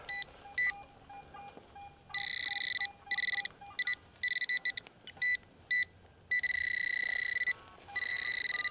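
A metal detector sweeping over iron in a field in Oklahoma gives choppy, warbling electronic beeps. The beeps start and stop in uneven bursts of varying length and ring fairly loud and close, with no talking.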